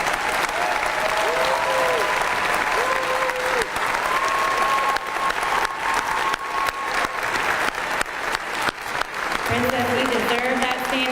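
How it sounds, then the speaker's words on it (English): Sustained audience applause during a standing ovation at a community State of the Community event in Macon-Bibb, steady and dense for the full length, with a voice speaking over it in places and rising again near the end. "you deserve that standing ovation that you're receiving"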